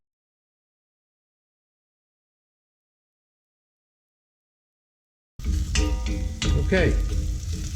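Garlic sizzles in a hot pan, a crackling fry that begins abruptly after a long silence and continues steadily while someone briefly speaks over it.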